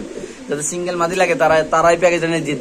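Fancy pigeons, including tulip and beauty breeds kept for sale, coo softly in the background beneath someone talking steadily over them.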